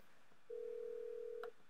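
A test phone extension on an IP PBX receives an incoming call, sounding one steady electronic ring tone about a second long, quiet and close, ending with a brief higher blip and no talk.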